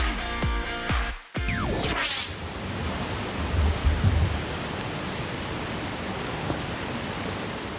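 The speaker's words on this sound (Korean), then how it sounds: "지금 빗소리 들리십니까?" Steady rain falls in a dense, continuous hiss, with a few brief louder swells and patters, after some sharp sweeping electronic sounds at the start.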